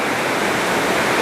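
Heavy rain falls as a steady, dense broadband roar, continuous and loud, with no voices over it.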